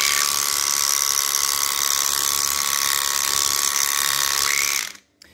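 Electric horse clippers buzz steadily and loudly up close with a fine rattling drone, then cut off abruptly near the end.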